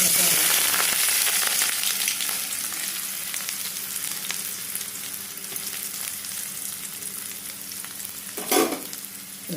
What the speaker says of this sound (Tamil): வானல் வச்சு எண்ணெய் ஊற்றிட்டேன் எண்ணெய் காஞ்சிச்சு இப்போ வந்து ஆனியனை வந்து